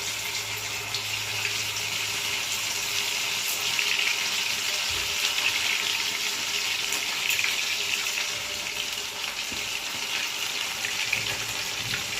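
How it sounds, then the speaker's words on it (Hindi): Maize baafle frying in hot ghee in a kadhai, a steady, even sizzle with soft watery crackle running throughout, moderately close and with no voices. "अब एक तरफ कढ़ाई में मैंने घी गर्म करने रख दिया है, घी गर्म हो गया है।"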